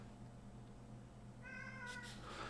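A cat gives one clear, drawn-out meow over a low steady hum in a quiet room, followed by a short breathy rustle.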